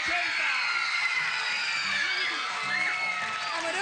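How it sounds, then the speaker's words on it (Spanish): Studio audience on a Chilean Saturday variety show in 1986 claps and cheers steadily and loudly for a contestant, a dense sustained wash of applause with scattered shouts throughout. "aplauso para el cuatro"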